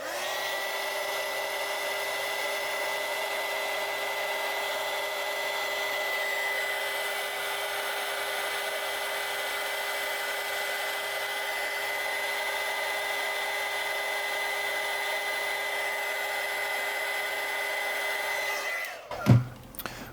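A heat gun shrinking heat shrink tubing onto antenna wire for a two-wire QRP antenna, a steady close whooshing blower hum held evenly for about nineteen seconds, then cut off with a couple of clunks.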